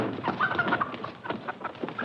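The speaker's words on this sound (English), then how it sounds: "Pardon me, miss. Chicken." Chickens in a crate cluck and squawk in short, irregular bursts close by, with the soft rustle of handling around them in an old western film scene.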